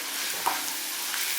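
Kashmiri chili powder fries in oil over a low flame for tomato pickle, a steady, close hiss of sizzling with faint stirring ticks and no voices.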